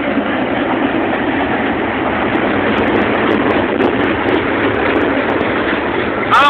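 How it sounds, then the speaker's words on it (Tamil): The Tea Garden Express passenger train rumbles past close by arriving at Karaikal, a steady loud clatter of rail noise that holds for several seconds with no talking. "அது ட்ரெயின் போகுது பாரு"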